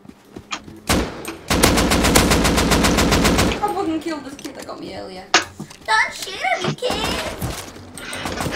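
An auto turret in a video game fires a long, rapid burst of dense machine-gun shots that sounds loud and close. A child-like voice talks excitedly after the burst, and a few scattered crashes follow.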